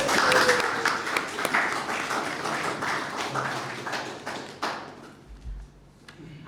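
Applause for the groom at a civil wedding ceremony, a mixed patter of clapping hands that fades toward the end, with a low thump near the close.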